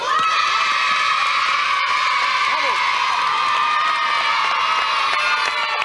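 A lively crowd, including children, cheers and whoops continuously at a French television show, a loud, dense wash of shouting voices with some clapping mixed in.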